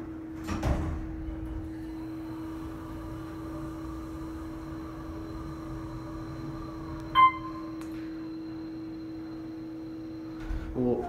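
An Otis hydraulic elevator door at a cheese shop in downtown Williamsburg slides shut with a soft clunk at the start and another near the end, a chime sounding midway over a constant motor hum.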